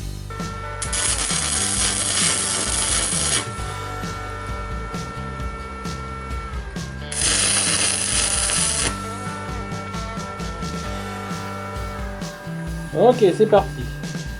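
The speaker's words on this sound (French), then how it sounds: "test de mon poste à souder tout neuf, qui est un GIS E163" A new GIS E163 stick welder burns a 3.2 mm rod at high amperage on heavy steel, giving two bursts of loud crackling hiss several seconds apart over workshop hum, with someone speaking briefly.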